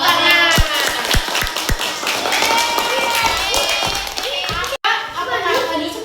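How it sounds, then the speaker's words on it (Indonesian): Classroom applause at the end of a student's presentation: a few sharp claps, then scattered clapping under children's chatter and voices. "Tepuk tangan."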